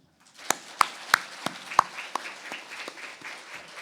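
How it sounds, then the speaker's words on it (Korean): Congregation applause at a church lecture service, a few sharp claps leading into a brief, loose round of clapping that fades quickly. "다시 한번 박수"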